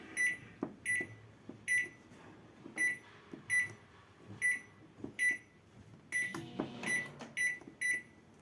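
A repaired microwave oven emits a series of short, regular electronic beeps, about a dozen evenly spaced tones with a faint hum and clicks beneath, heard close and clear with no talking.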